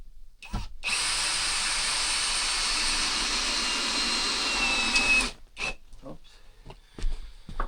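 A power drill whines steadily for several seconds while driving screws into roof rafters during second-floor construction, followed by a few short bursts and clunks nearby.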